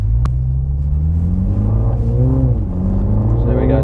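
A 2020 MINI Clubman's turbocharged engine accelerates, a loud close interior drone whose pitch climbs steadily through the gear.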